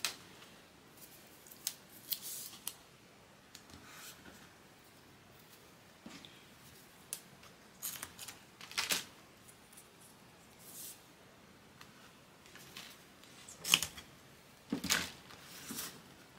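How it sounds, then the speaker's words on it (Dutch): Wide adhesive tape pulled off the roll and pressed down while working on a handmade travel journal, heard as a series of scattered short rips and crackles, fairly quiet and close, with no talking. "Laten we dat gewoon even met tape doen."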